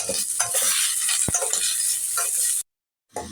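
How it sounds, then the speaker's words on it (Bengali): Chopped onions fry in a pan with a bright sizzle, broken by close stirring scrapes and one sharp metallic clink, before the sound cuts out briefly and resumes. "কুচি পেঁয়াজটা আমি ভালো করে ভেজে নিচ্ছি"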